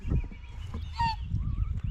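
Geese honking on a farm where chickens and ducks are also kept, several loud close honks and nasal calls over a rumbling background, with no talking.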